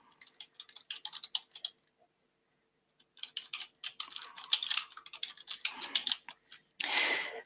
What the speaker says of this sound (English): I will just type something simple for this example.